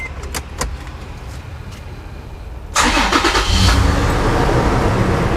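A few clicks and taps, then a Toyota FJ Cruiser engine cranks and catches, settling into a steady idle rumble nearby.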